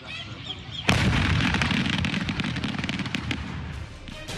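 A large unmanned hot-air balloon explodes over rice fields in Balong, Ponorogo, East Java, with firecrackers going off: one sudden loud blast followed by several seconds of dense, crackling bursts and pops, no voices.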